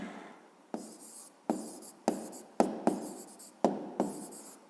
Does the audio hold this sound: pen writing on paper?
yes